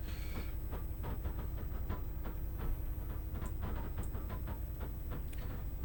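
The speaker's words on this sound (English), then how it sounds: "this train sounds fantastic from the outside" Train rolling along in Train Simulator 2019 on the London to Edinburgh line, heard from outside: a rumbling engine drone with rhythmic clickety-clack from the rails and a few faint high squeals, no talk.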